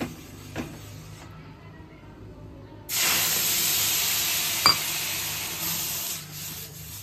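Water hits a hot dosa pan and bursts into a loud, steady sizzling hiss that holds for several seconds, following a quieter stretch of low background noise.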